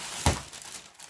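A small paper bag crinkling as a parcel is unpacked: one sharp rustle near the start followed by faint handling noise, quiet and close, with no speech.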